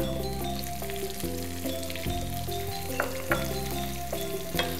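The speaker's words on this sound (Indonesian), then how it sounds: "kalau menumis bawang putih, apalagi kalau dicincang ya, karena dia bentuknya halus, jadi harus selalu diaduk" Minced garlic and onion sizzle steadily in hot oil while a spatula scrapes and stirs them at intervals, giving a close, continuous frying hiss with periodic clinks and scrapes, no voices.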